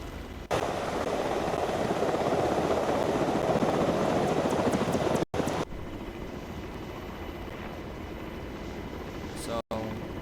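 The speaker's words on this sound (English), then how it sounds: "Now I'm going to go in for another loop, and I'll land back at the airfield." A video game aircraft holds a steady, loud engine drone while flying a loop, with two abrupt cuts briefly silencing it.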